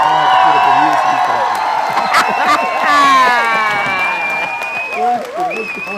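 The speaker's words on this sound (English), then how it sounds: "A great round of applause to Mr. Do-Right." A crowd applauds and cheers for Mr. Do-Right, with whoops and excited voices rising over steady clapping that stays loud and close throughout.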